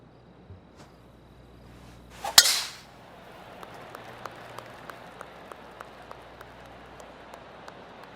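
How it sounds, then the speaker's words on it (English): A golfer tees off on the 14th hole at the PGA Tour Texas Open with one sharp, loud crack against quiet outdoor ambience, followed by a steady series of faint, evenly spaced ticks. "Teeing off now on the 14th hole."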